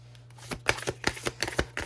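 Tarot cards are riffled and shuffled at close range, then drawn. Quick papery flicks and snaps repeat in an irregular rhythm over a low steady hum.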